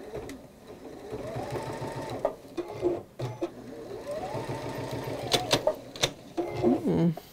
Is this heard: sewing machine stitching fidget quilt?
yes